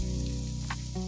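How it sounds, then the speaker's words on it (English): Butter and finely chopped garlic sizzle in a drizzle of olive oil in a frying pan, a steady close hiss with a constant hum underneath throughout the short stretch. "In a frying pan, heat a drizzle of olive oil, add the butter, and the finely chopped garlic"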